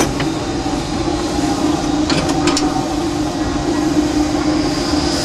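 A Disneyland Railroad steam train begins rolling forward, heard from the cab as a steady low rumble with a sustained hum and a few sharp metallic clanks partway through.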